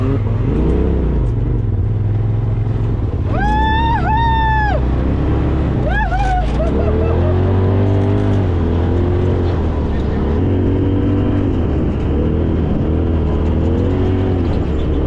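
A Can-Am buggy engine drones loud and close while driving through sand dunes, with rising revs and gear shifts surging over a constant rumble. Voices are heard now and then over the engine.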